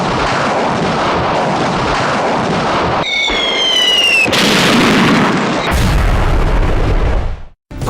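BM-13 Katyusha multiple rocket launcher firing: a sustained, loud roaring rush of rocket launches with whistling, rising squeals midway, continuous for about eight seconds before cutting off.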